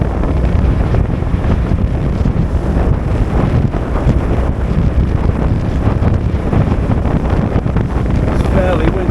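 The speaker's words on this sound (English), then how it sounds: "It's fairly windy, I must admit." Strong wind buffets the open deck of a Bosphorus ferry in Istanbul, a loud, continuous roar with the rumble of the boat and the wash of water beneath it.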